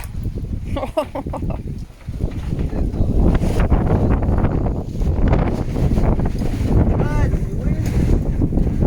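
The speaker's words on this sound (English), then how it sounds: "Careful, it's windy." Strong wind buffets the microphone in loud, uneven gusts beside a koi pond, with rustling and flapping noises and bits of voice mixed into the roar.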